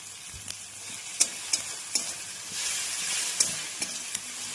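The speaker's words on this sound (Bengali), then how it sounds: "টমেটোটা হালকা ভাজা ভাজা হয়ে গেছে। এবার আমি এর মধ্যে অ্যাড করব হচ্ছে সামান্য একটু জিরে গুঁড়ো আর পরিমাণ মতন হলুদ গুঁড়ো।" Tomatoes frying in a pan with cumin and turmeric powder, a continuous close sizzle broken by sharp spoon taps and scrapes as the mix is stirred, no voices.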